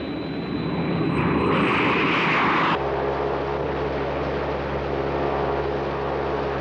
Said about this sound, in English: He's heading in south-southeasterly direction in a Green Angel executive aircraft.